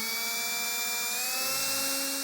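A drill with a 5mm metric bit enlarging existing holes during a snorkel installation on a 2023 Jeep, heard as a loud, steady high-pitched whine that rises slightly in pitch, close up and with no talk.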